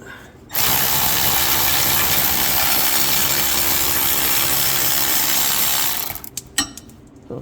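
An electric ratchet whirs loudly and continuously for about five seconds, loosening a starter bolt on a Toyota Land Cruiser Prado or Hiace, then stops, followed by a few metallic clicks and clanks.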